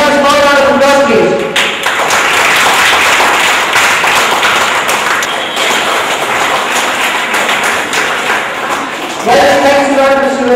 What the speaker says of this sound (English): Can I have a small round of applause, please?